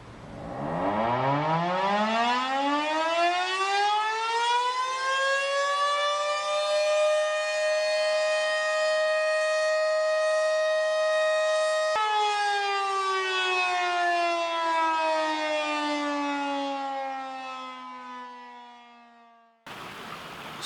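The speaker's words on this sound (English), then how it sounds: "I typed in Osseo, Minnesota siren. I'm gonna play that just for a moment right now." Civil defense siren from Osseo, Minnesota, winding up from low to a loud sustained wail for about ten seconds, then a sudden drop in pitch as it slowly winds down, playing alone with no voices.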